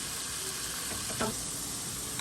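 Garlic and onion paste with turmeric being stirred in a pan, a soft steady sizzle with a few brief scraping strokes near the middle, close and fairly quiet.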